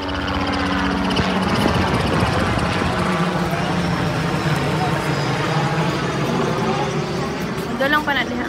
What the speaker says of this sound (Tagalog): Ay helicopter.